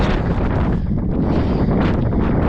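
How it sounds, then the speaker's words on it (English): Heavy wind buffets the microphone outdoors during a running interval session, a constant low roaring rumble that fills the whole stretch without pause. "Not sure if you can hear me with this wind."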